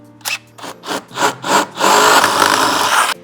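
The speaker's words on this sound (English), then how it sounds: "now we can take our larger drill bit and make these holes bigger" A larger bit drills out bolt holes during a Mercedes Sprinter NCV3 stop-stay install: several short bursts of whining and grinding, then a sustained louder drilling run lasting over a second before stopping abruptly, close and without talk.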